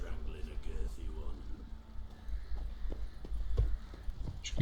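Horse hooves clip-clop in The Witcher 3 on PC, a quick rhythmic trot of hoof beats under game ambience and someone talking.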